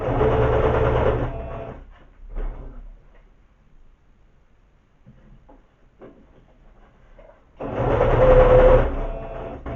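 A sewing machine stitching a seam on fabric, a loud fast mechanical whirring run at the start and again near the end, with quieter handling and pauses between.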